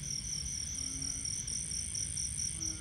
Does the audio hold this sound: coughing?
no